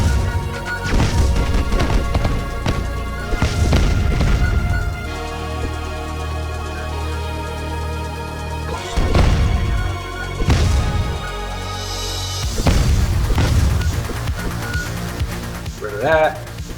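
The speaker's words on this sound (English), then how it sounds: "So my new melee weapon makes explosions." Explosive melee-weapon blasts in the video game Neurovoider burst out several times in loud, irregular booms and crashes, with a voice talking over the action.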